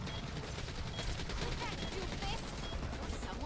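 Friendly fire from a teammate in the co-op shooter Back 4 Blood: a steady wash of fast gunshots, fairly faint and blended with game noise, continuing without a break, with a voice speaking over it.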